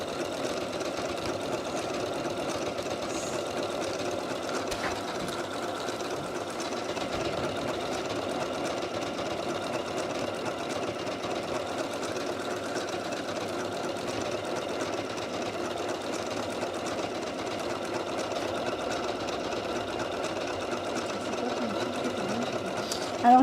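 Janome Horizon Memory Craft 9480 sewing machine stitching a hem with fine thread, a steady continuous mechanical whir and rapid needle chatter running unbroken and fairly close throughout.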